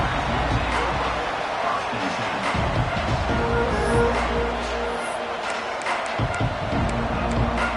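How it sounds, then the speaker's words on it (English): A fired-up stadium crowd in the College Football 26 video game keeps up a loud, constant roar, with a few sharp thuds breaking through the steady wash of noise. "It's early, but this crowd is fired up. Listen to this noise here."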